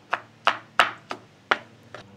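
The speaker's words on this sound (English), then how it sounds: "We're just gonna start chopping a little bit here." Metal chopper blades striking a hot Blackstone griddle while chopping lettuce, tomato and mayonnaise, six sharp, evenly spaced clacks, close and fairly loud, with no talking.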